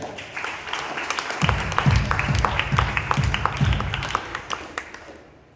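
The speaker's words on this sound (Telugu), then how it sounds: "చప్పట్లు కొట్టండి గట్టిగా." A church congregation at a Catholic service claps loudly, with a sustained burst of many hands clapping together that rises quickly, holds for a few seconds and then fades out.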